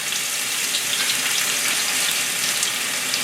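Onion drops into hot vegetable oil for a Chinese sausage egg omelette, setting off a continuous loud, close sizzle that stays level throughout.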